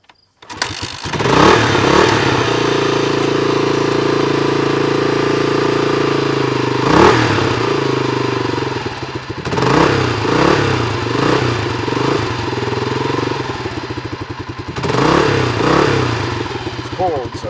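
A cold 1985 Kawasaki KLR250 motorcycle engine runs loud and close after starting on the choke, its uneven idle rising in a few blips of revving, with a voice speaking over it.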